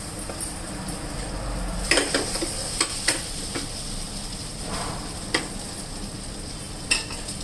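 Mixed vegetables frying in butter in a pan for an egg breakfast, a steady close sizzle with occasional sharp clinks and scrapes of a utensil stirring against the pan.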